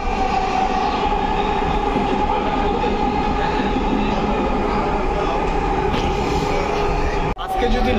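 Inside a nearly empty metro train, the carriage hums and rumbles steadily with faint clacking of the wheels on the rails, continuous and close, with a short drop near the end.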